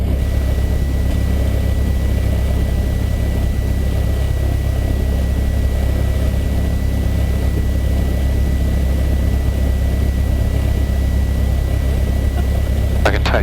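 A Cessna 172's engine drones steadily from inside the cabin while the plane taxis at Moorabbin, a loud constant hum with a faint sound of radio chatter underneath.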